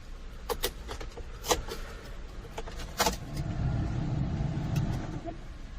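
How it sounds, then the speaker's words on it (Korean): A used car's engine starts: a few sharp clicks and clunks come first, then the motor turns over and settles into a low, steady idle rumble. "차량 시동을 한번 걸어보도록 하겠습니다"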